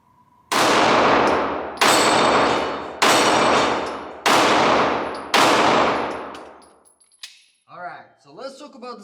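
An FN 509 9mm pistol fires five sharp, loud shots close by at an even rhythm, each with a ringing reverberant tail, followed by someone speaking.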